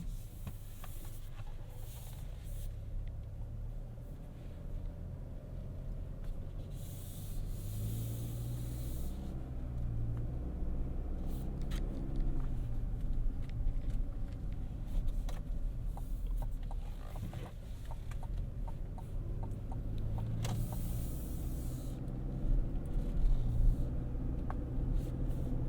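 Cabin of a 2023 Chevrolet Colorado Z71 pickup on the move: a steady, low road and drivetrain rumble with a faint airy hiss throughout. There is no talking.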